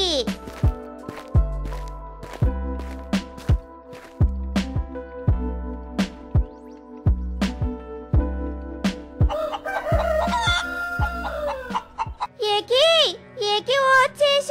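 Cartoon chickens perched on tree branches in an animated fox story: music plays first, then a busy burst of clucking and a shrill rooster crow near the end, alongside animated voices.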